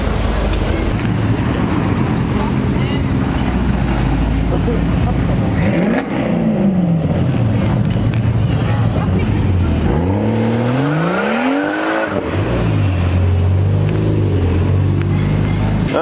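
An Audi RS6 with grey trim revs and accelerates on a street in Knokke among passing supercars, its loud engine note rising and falling in pitch through several surges, with people talking nearby.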